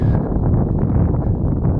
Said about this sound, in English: Could be a bit windy up here, but we'll make do.